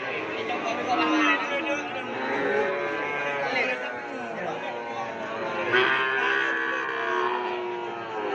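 Many Sapudi Island cattle lowing and mooing continuously, layered over a busy hubbub of people talking in the background at a crowded livestock market in Pamekasan, Madura.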